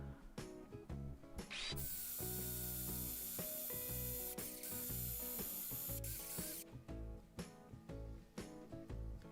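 Black+Decker BCD700S 18V cordless combi drill boring into wood with a 10mm wood bit at speed 2, giving a loud steady whirring hum with a sustained high grinding stretch in the middle and no talk.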